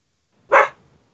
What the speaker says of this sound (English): my dog's going to start barking in a second